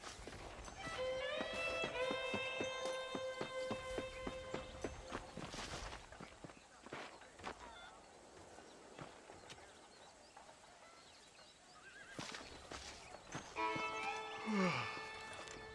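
Horse hooves clip-clop steadily in a Red Dead Redemption western scene, with a bright tonal melody over the first half and again near the end, the hoofbeats fairly close and moderately loud.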